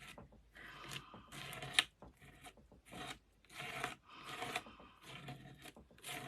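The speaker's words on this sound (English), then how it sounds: "I'm just scraping on, and the Hero paste, you can actually get it right in there in the grooves" Texture paste scraped across a mixed media canvas with a palette tool, a series of rasping, gritty strokes in uneven bursts with short pauses between, close and fairly quiet.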